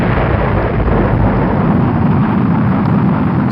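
A rocket launch carrying a small memorial capsule of ashes roars as a steady, loud, broadband rumble, continuous and without pauses throughout.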